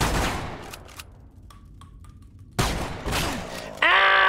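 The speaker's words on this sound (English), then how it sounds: "If I shoot him with my gun, he'll die." Gunshots in the horror game Nightmare of Decay ring out as a loud opening burst, a few faint distant pops, then another sharp blast followed by a harsh sustained tone, with no talking.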